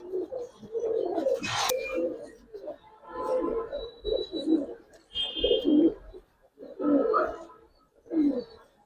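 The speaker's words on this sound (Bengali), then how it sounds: "একদম অরিজিনাল বাবরা কবুতর" Babra (Napta) pigeons cooing in repeated low, throaty bursts close by, with people talking over and between the calls.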